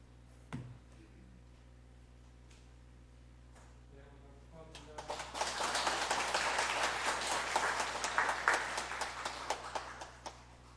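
A church congregation at a Korean Sunday morning service applauds. A few quiet knocks and rustles come first, then moderate clapping swells and continues for several seconds before tapering off.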